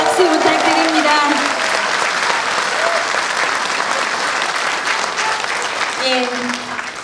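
A talk show audience gives sustained, loud applause for several seconds, a dense wash of clapping with voices speaking briefly over it near the start and end.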